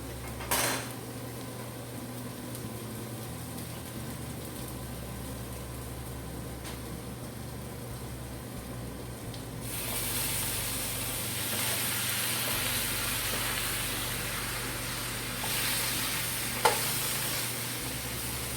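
Steak and egg hash with butter sizzles steadily in a pan, a constant close frying hiss that grows louder partway through, with occasional clinks of a utensil against the pan.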